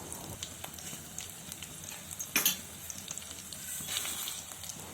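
Crushed garlic, fenugreek, mustard seeds, cumin, coriander seeds, dried red chillies and curry leaves frying in hot oil for gongura prawns, a steady close sizzle and hiss with a brief louder crackle midway.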